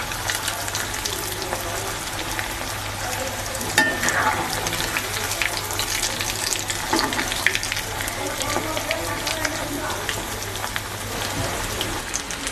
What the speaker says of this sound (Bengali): উল্টা পাল্টে মিডিয়াম আঁচে ভেজে নিচ্ছি